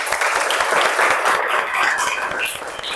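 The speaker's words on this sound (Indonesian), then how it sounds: "Tepuk tangan." Applause from a class of students after a group presentation in a school classroom, a steady dense patter of many hands clapping close by, sustained for the whole stretch with faint voices mixed in.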